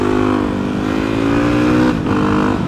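An off-road motorbike engine drones loud and close in a high gear, holding a steady pitch before a brief dip and recovery, with no talking.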